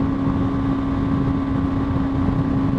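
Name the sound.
BMW G 310 R motorcycle engine at 8,000 RPM on highway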